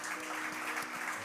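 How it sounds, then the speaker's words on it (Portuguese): A church congregation applauding during a service, a short burst of many hands clapping together, fairly distant and soft but continuous. "Aplaudam ao Rei."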